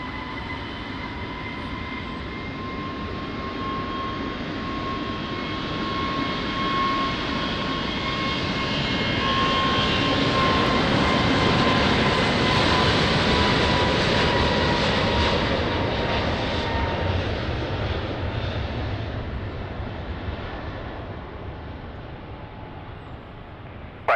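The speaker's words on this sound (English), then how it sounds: "Airbus 320 Neo now rolling" An Airbus A320neo jet rolls down the runway at Lisbon Airport, a broad steady engine roar with a faint whine that swells to a peak midway and slowly eases off, heard alone.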